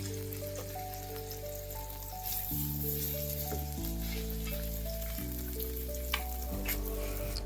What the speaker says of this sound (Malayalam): അതേലെ 2-3 കഷ്ണമേ നമുക്ക് അടുപ്പത്തിട്ടങ്ങ് വറുത്തെടുത്താലോ.